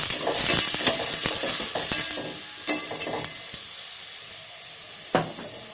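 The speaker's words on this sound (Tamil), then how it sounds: "இப்போ வந்து வெங்காயத்தை போட்டு வதக்கிக்கலாம்" Steady sizzling and crackling of onions frying in hot oil for egg biryani, loudest at first, with occasional stirring clatters and a sharp scrape near the end.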